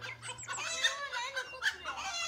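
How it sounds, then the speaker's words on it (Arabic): An agitated rooster on a farm clucks and squawks in a rapid, loud run of harsh calls, close by, alone without talk. "الديك انفعل."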